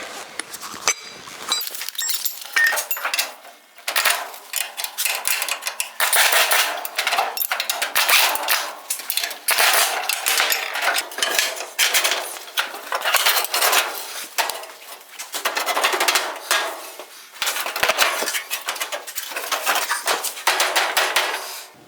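Metal hammering on a twisted 1956 Chrysler bumper being straightened, a long run of sharp ringing clanks and rapid taps with brief pauses, close and loud.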